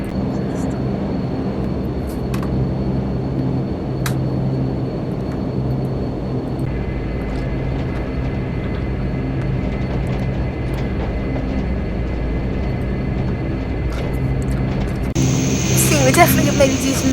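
Flybe DH8D turboprop taxiing in Flight Simulator X, a steady low engine drone holding throughout with a higher whine joining partway and a brief brighter burst near the end.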